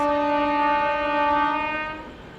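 An AP Express train sounds a long, loud, steady horn blast close by, holding for about two seconds before fading, with faint rail rumble beneath and no talk.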